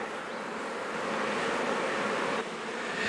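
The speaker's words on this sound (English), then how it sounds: "See how the bees are taking to the queens in the box?" Honey bees swarm around queen cages in a nuc box, a dense, continuous close buzzing drone with no talk.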